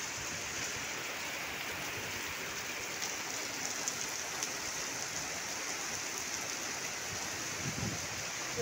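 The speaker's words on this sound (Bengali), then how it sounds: "আজকেও ঠিক আরম্ভ হয়েছে, দেখেছো বৃষ্টি।" Steady rain pours down in a continuous wash of hiss, constant and fairly close, with no voices.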